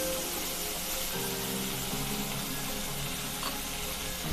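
Fenugreek leaves fry in hot ghee in a pan over full heat, giving a steady, close, fairly loud sizzle that hisses on without pause and with no voices.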